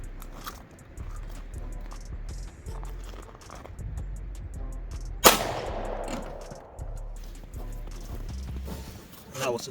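A single sharp shot from a 30 Super Carry pistol cracks out loud and close at an outdoor range, its echo decaying over about a second while background speech and noise continue.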